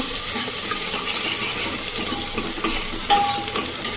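Chopped onions frying in hot oil with cumin seeds make a bright, continuous sizzle close by, with light stirring scrapes and a small metallic clink partway through.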